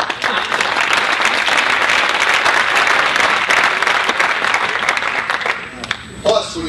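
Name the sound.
audience applause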